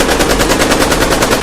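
A bomb gun fires in a rapid, continuous burst of loud, close shots at an even rhythm, with no voices over it.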